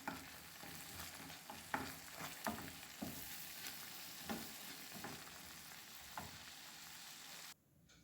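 Apple jam being sautéed in a pan gives a steady soft sizzle broken by repeated scraping stirs, close and fairly quiet with no voices, ending in an abrupt drop near the close.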